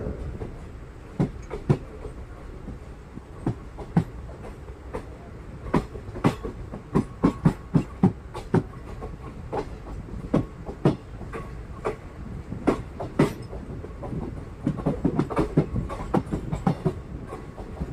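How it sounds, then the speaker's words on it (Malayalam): A Cheruvathur–Mangalore passenger train pulls out of Cheruvathur station in Kerala, its wheels beating out a steady clickety-clack of sharp rail joint knocks over a low rolling rumble. "ചെറുവത്തൂർ റെയിൽവേ സ്റ്റേഷനിൽ നിന്നും വീണ്ടും പുറപ്പെട്ടിരിക്കുകയാണ്"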